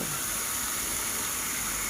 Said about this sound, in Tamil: இதை நல்லா வதக்கிக்கணும் எண்ணெயில்